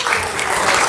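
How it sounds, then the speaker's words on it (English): A church congregation claps steadily for a brief moment during a Sunday service, the applause dense and loud throughout. "Can we get a round of applause for Rick?"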